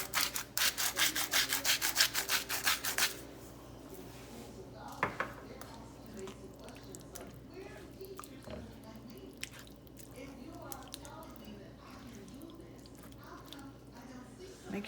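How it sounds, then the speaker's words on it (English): Stirring salt into crawfish étouffée in a pot: a rapid run of scraping strokes comes first, then softer wet stirring and squishing with occasional clicks of the utensil against the pot, with a person talking throughout. "Make sure we get it mixed up good."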